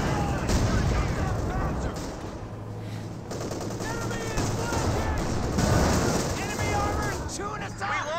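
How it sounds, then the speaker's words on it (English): Anti-tank gun shots in a Company of Heroes battle, several booming reports and explosions within a constant din of machine-gun fire and battle noise, under continuous excited commentary. "Multiple AT gun shots there."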